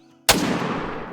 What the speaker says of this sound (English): Perfect next shot there.